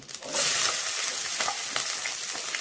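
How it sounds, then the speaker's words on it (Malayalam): Chopped onion hits hot oil with popped mustard seeds for a South Indian tomato rasam, producing a loud, dense, continuous sizzle close up, with faint stirring scrapes and no voices. "നമ്മൾ എടുത്തു വെച്ചിരിക്കുന്ന സവാള ഇട്ട് കൊടുക്കുവാണേ"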